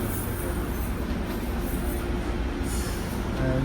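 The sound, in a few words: double-decker metro train arriving in Miami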